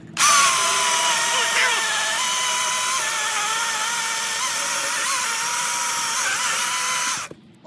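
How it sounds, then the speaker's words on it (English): A chainsaw cuts hardwood logs at a shop, its engine holding a loud, steady high-pitched whine for about seven seconds, with slight dips in pitch under load, before cutting off abruptly. "They ain't used to the power of this chainsaw right here."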